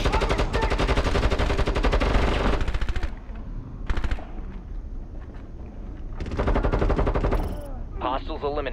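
Rapid automatic gunfire from a Rainbow Six Siege Terrorist Hunt match, loud dense bursts with brief gaps, overlaid with game sounds and electronic effects.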